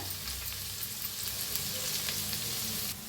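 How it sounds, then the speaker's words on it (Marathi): Finely chopped onion fries with garlic, ginger and green chilli in a pan, giving a steady, close, dense sizzle that holds at an even level throughout with no voices. "भाजून घेऊया कांद्याला बी चांगलं लाल कलर येऊस तर।"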